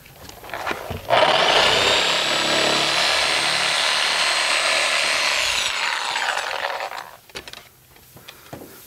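Harbor Freight reciprocating saw trimming spray foam insulation inside a wall cavity: a loud, close, continuous buzzing run of a few seconds that starts sharply and winds down, with a few handling knocks on either side.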